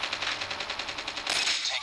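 Rapid automatic gunfire in the video game Call of Duty, a fast, even string of loud shots that swells into a denser, harsher burst near the end.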